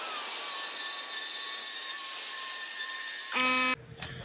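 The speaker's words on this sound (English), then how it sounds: "I'm going to grind some of this down so I can weld to it" A grinder bites into the metal of a motorcycle frame with a loud, steady high-pitched whine, then the tone shifts and cuts off near the end as the tool spins down, with no talking.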